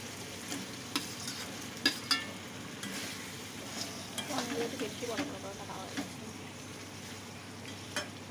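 Full-cream paneer cubes, stuck together, are separated and stirred in an oiled pan, giving a soft steady sizzle broken by scattered light scraping and tapping of a utensil against the pan, fairly quiet and close.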